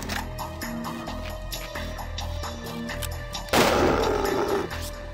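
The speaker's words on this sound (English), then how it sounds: "we probably should use the rifle to guarantee the kill" A single loud rifle shot from the video game Gorky 17 bursts in late, over a steady background of ticking, tonal game music, then rings out with a rough, decaying tail for about a second.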